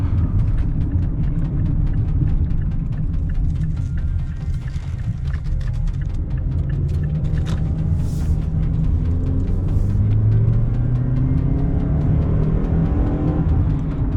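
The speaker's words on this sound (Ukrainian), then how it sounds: "просто нажав газ і вже 80" Mazda CX accelerating hard from the driver's seat, a loud, steady engine drone and road roar that rises in pitch as speed builds, with no talk.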